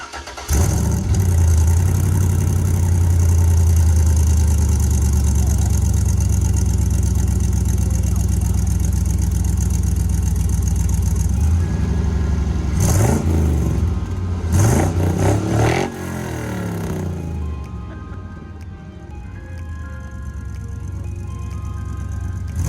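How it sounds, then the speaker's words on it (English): A 1970 Chevrolet C30 with Cherry Bomb exhaust cold starts and settles into a loud, rough idle, then gets a few sharp throttle blips before quieting. "he's gonna give us a cold start"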